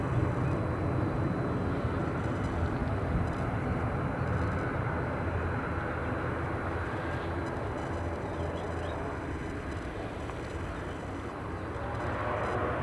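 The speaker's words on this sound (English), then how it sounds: "here is our returning Dublin flight" A returning Dublin flight at Edinburgh Airport, a steady, broad jet roar that holds loud and unchanging throughout, with no voices over it.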